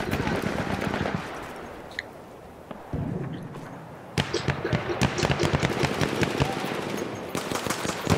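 Gunfire in a multiplayer shooter game, with rapid bursts of close, sharp shots rattling in quick succession after a quieter stretch of ambience, plus a few isolated earlier cracks.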